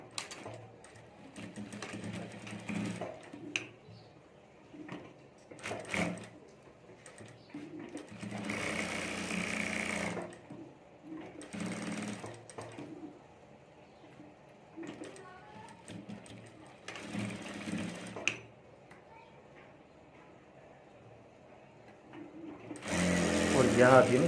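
A home sewing machine stitches over the zip of a handmade handbag in several short, whirring bursts separated by pauses, with quiet talk in between.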